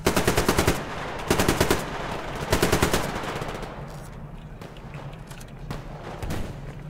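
Bursts of rapid automatic gunfire with heavy booming rounds in the video game Survarium, then sporadic distant shots under a rumbling backdrop, loud and close at the start.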